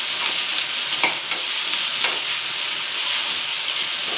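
Curry leaves frying in hot oil for gobi 65, giving a loud, steady, close sizzle with a few sharper crackles and pops.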